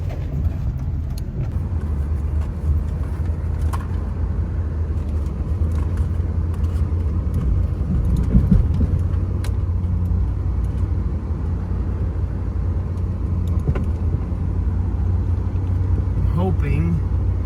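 A plow truck idles and drives on frozen ground in below-zero cold, its steady low engine rumble continuous and fairly close throughout, with faint speech at moments.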